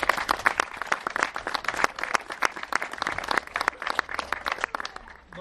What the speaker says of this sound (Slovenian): mislim, da naši vinogradniki zaslužijo aplavz